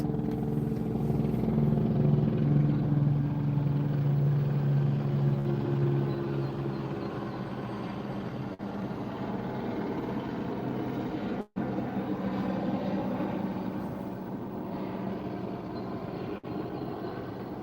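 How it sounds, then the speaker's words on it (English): A helicopter circles overhead on a cool morning in Arizona, its broad, steady rumble droning continuously and slightly louder at first before evening out, with no voices heard. "Chopper's still circling above."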